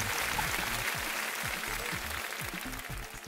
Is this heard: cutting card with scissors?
no